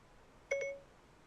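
A short two-note electronic chime from an iPhone's Siri voice assistant sounds once, clear and close, in a quiet room with no speech.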